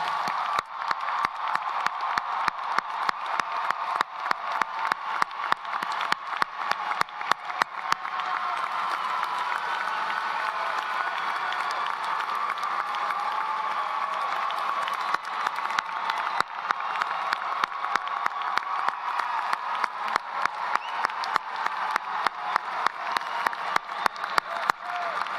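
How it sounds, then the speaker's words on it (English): A large commencement audience applauds the graduates in a long, sustained wave of clapping with scattered cheers and whoops, filling the hall from start to finish. "join me in one last round of applause for today's graduates"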